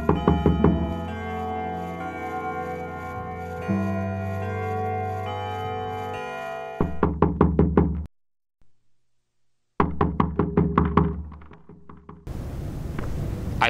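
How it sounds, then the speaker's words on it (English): After a stretch of sustained music, a door is knocked in two rapid bursts of loud raps separated by a brief silence. "there came a knocking at the street door"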